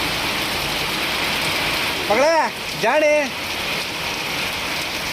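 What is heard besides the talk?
rain falling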